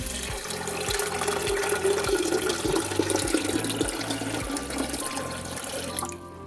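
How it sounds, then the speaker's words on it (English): Water runs steadily into a plant-based milk maker holding soaked soybeans, a continuous splashing pour that fills the whole stretch before cutting off near the end. "and then add water."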